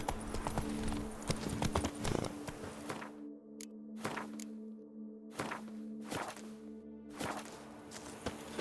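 Roach the horse in The Witcher 3: Blood and Wine, hooves clopping in a steady walking beat, close and distinct, with the background dropping away between footfalls.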